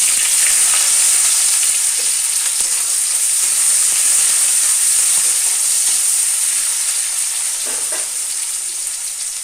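Chopped onion frying in hot oil for a thin tilapia curry with potato and eggplant, a steady loud sizzle with constant hiss throughout and faint stirring clinks near the end.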